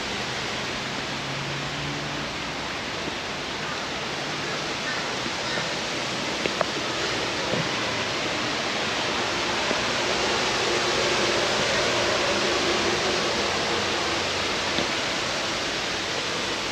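Scrubby Creek in Logan City flows with a steady broadband rush of water, even and continuous, with no voices.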